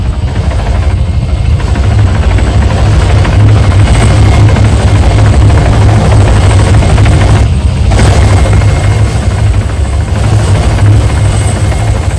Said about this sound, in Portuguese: helicóptero no ponto de extração já